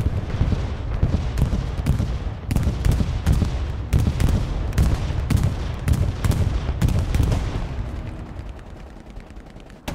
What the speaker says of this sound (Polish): bombardują nas